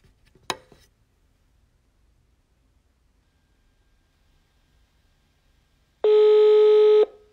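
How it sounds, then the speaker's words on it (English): A phone rings during a call on a political talk broadcast: one steady, loud electronic ring tone lasting about a second, after a brief click and a long stretch of near silence. "Yeah, the phone is ringing."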